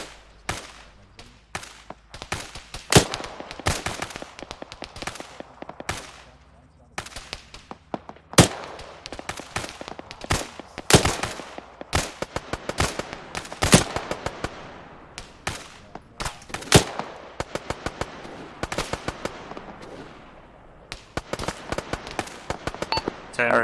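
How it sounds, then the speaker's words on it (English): Gunfire in the Theseus military shooter game, with sharp loud shots in irregular bursts and single cracks, scattered across the whole stretch with brief pauses between volleys. "We're now taking fire."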